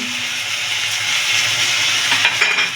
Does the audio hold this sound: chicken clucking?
no